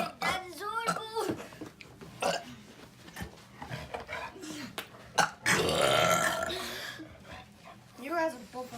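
Several loud, croaky burps come in bursts during a home burping contest, mixed with excited talk and laughter from the people taking part.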